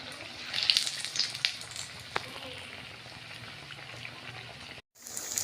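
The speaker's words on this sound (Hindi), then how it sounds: "इसी तरह मैंने बाकी के भी कबाब फ्राई होने के लिए डाल दिए हैं।" Chicken and vegetable kebabs fry in hot oil with a steady, moderate bubbling sizzle and a few crackling pops, briefly cut off near the end.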